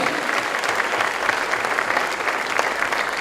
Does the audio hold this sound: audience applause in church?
yes